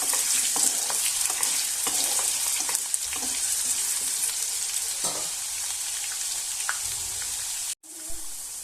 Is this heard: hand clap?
no